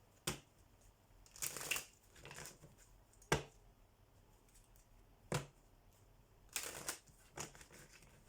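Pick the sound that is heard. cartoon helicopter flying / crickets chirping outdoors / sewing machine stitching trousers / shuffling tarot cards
shuffling tarot cards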